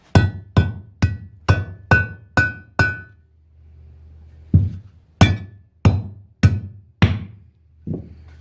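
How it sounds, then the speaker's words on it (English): Hammer blows driving the shift rod bushing out of a 1963 Evinrude 10 HP outboard lower unit: seven sharp, ringing metallic strikes in quick rhythm, a short pause, then five more and a final lighter tap, close and loud. "We get a hammer and hammer it out."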